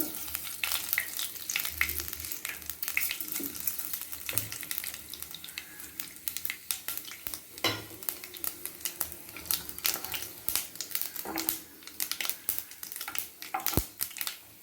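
Mustard seeds fry in a little oil for a mild South Indian buttermilk curry, crackling and sizzling with sharp pops scattered across a soft steady hiss, close and moderately quiet, no voices.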